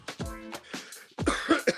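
A person coughs several times after smoking a joint, harsh rasping bursts close up, with a brief pause before a final run of hacking coughs.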